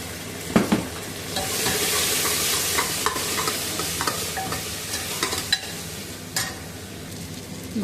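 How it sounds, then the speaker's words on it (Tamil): Ginger garlic paste sizzles steadily with softened tomatoes in a hot pan for a Tamil mutton kulambu, with a spoon scraping and stirring through the mixture in irregular, close-up strokes. "இஞ்சி பூண்டு பேஸ்ட் ஊற்றிக்கோங்க."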